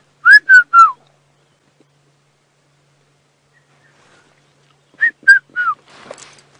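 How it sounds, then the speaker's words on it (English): A red-chested cuckoo calls twice in the African bush, each time a loud, clear, descending three-note whistle, with a long silent gap between the two phrases. "We can hear a red-chested cuckoo in the background as well."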